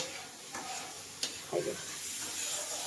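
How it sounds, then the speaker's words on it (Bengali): Kuche fish (eel) sautéed and stirred in a pan, a steady soft sizzle with a few brief scraping strokes, close and moderately quiet. "এবার খুব সুন্দর করে আমি কষিয়ে নেব"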